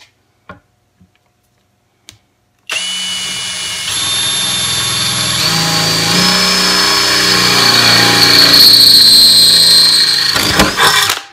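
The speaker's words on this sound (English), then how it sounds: "let's drill through this puppy and see how it performs." A 20V cordless hammer drill whines loudly and steadily after a few faint clicks, its pitch climbing as it bites into steel, then cutting off abruptly near the end.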